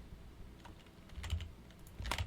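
Keyboard shortcut typing while modeling a door in 3D software, with a few quiet clustered key presses close by and no talking.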